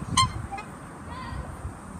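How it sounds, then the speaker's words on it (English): A magpie goose at a wildlife park gives a short honk near the start, followed by quieter calls over low background rumble. "That's the magpie goose."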